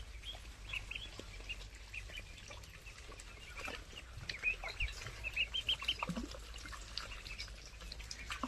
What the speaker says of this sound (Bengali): প্রথম দিনে মনে হয় যে পানিতে নেমে আনন্দে মেতে উঠেছে হাঁসের বাচ্চাগুলো।